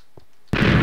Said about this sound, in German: Du wirst jetzt gleich eine fette Explosion hören.